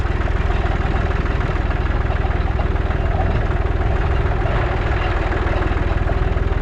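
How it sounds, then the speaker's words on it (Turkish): A tractor engine runs slowly at a steady low rumble during alfalfa sowing, its even knocking pulse loud and close throughout with no break. "Zaten böyle tırım tırım gidiyorum traktörle."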